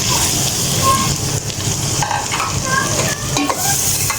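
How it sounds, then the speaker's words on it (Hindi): Finely chopped onions sizzling in hot oil in a pan, a loud steady fry with crackling and occasional stirring scrapes, close up and continuous, a voice faint underneath. "तो यहाँ पे अब मैं अपने प्याज ऐड कर देती हूँ।"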